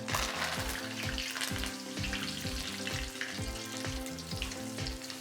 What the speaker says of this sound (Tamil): கருவேப்பிலையை போட போகிறோம். போட பார்த்து அது தெரிக்கும்